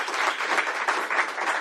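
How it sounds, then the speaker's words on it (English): Steady applause from a crowd, dense and continuous clapping throughout. "give them one more round of applause for all their hard work"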